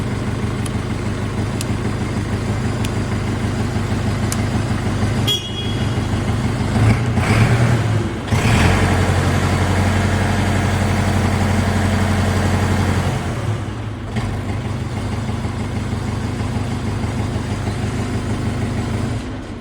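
A Jinma 404 mini tractor engine runs at a steady idle for the whole stretch, a loud, close diesel chug with a brief dip and bump in the middle and no voices.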